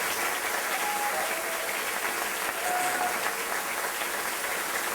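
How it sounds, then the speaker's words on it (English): A breakfast audience at a Democratic women's caucus gives a steady, even round of applause for candidates, a continuous crowd clapping at moderate level throughout. "Give them a great round of applause."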